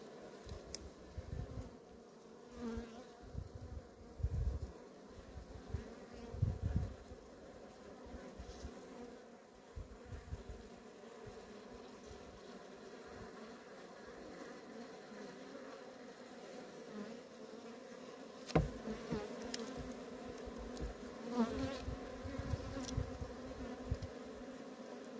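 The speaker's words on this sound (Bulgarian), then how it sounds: "Затварят се пчелите тук." Honeybees buzz around an open hive while a beekeeper handles a frame of capped and uncapped brood. A soft, steady hum carries the full length, rising into close, louder passes now and then, with no voices.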